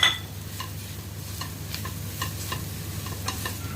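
Curry leaves crackle and sizzle as they hit hot crab curry masala in a pan, with a steady close fry and repeated light spatula taps and scrapes through the short stretch.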